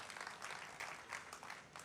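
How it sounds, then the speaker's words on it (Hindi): An audience at an all-India poetry gathering in Ujjain claps for a guest poet, giving steady, moderately loud applause from start to finish. "मेहमान कवियत्री के लिए एक बार जोरदार ताली बजाकर उनका अभिवादन करें आप"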